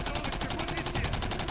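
Rapid automatic gunfire in the video game Singularity, a steady fast rattle of evenly spaced shots continuing throughout, close and loud.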